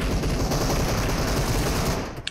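Sustained automatic weapon fire in PUBG Mobile, a loud continuous rattle of rapid shots that cuts off abruptly near the end.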